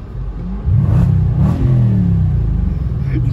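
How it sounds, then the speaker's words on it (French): A loud tuned car engine revs up hard on a night street in Lyon, roaring and rising in pitch, then holds a deep, rumbling growl nearby. "C'est sa voiture tuning là qui fait du bruit."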